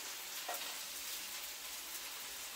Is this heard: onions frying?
yes